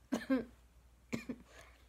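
Two separate bursts of coughing, close and fairly loud, each a quick double cough with a short quiet gap between them.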